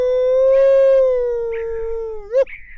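An electronic predator caller plays a baby domestic pup sound outdoors while hunting coyotes in Canada: one long, loud, sustained howling whine that slowly falls in pitch and then ends in a sharp yelp.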